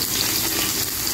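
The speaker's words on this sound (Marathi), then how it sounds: "पनीर आपलं फ्राय होतं आहे." Paneer pieces fry in hot oil for Hyderabadi paneer, giving a loud, close, continuous sizzle with crackling spatter and no talking.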